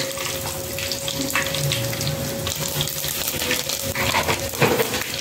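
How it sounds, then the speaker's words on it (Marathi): Steady sizzling and crackling of curry leaves frying in hot tempering oil, close up, with a low background hum and no voices. "छान अशी कढीपत्त्याची आता आपण इथं फोडणी दिलेली आहे ह्याला।"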